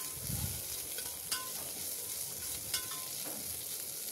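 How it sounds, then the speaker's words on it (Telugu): Ginger garlic paste sizzles steadily in hot oil in a pan, with a scraping stir of a spoon now and then over the constant frying hiss; no talking. "అల్లం వెల్లుల్లి పేస్ట్ పచ్చివాసన పోయేదాకా ఫ్రై చేసుకుందాం."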